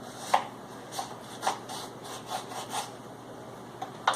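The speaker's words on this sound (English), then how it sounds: "So, we're going to cut up a lime." A knife cuts through a lime, giving several short, crisp slicing strokes at an uneven pace, up close, with quiet pauses between the cuts.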